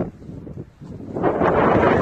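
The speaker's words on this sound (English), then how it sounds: "It is windy, yeah." Wind blows across an outdoor hiking trail along the Appalachian Trail, a steady broadband rush that swells and grows louder midway, with no speech.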